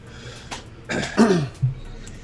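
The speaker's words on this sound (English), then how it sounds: "I got this really dry cough too." A couple of short, dry coughs and throat-clearing bursts, close and fairly loud, with brief pauses between them.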